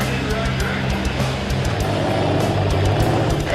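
Car with a 5.0 347-horsepower engine powering up a muddy hill in second gear, a loud, rough rumbling engine roar with rattling and thumping over uneven ground, steady throughout the short burst.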